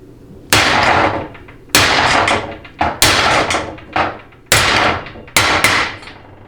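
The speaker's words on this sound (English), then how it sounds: "go ahead and just tap it in just a little bit to get it started, and then 2 or 3 firm smacks, maybe 4 tops, and you'll be able to seat it." A hammer strikes a transmission extension housing seal into its bore with six sharp, loud metallic smacks at a fairly even pace, each ringing briefly before fading, with no talking.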